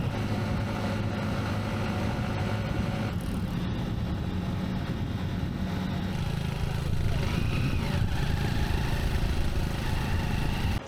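A Honda motorcycle rides along a road in Vietnam toward Phong Nha, its engine and road noise making a steady, loud drone that runs the whole time with no talk.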